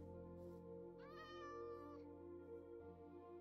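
A cat meows in a video game set in a village under attack, one clear drawn-out meow over a steady background of game music and ambient hum.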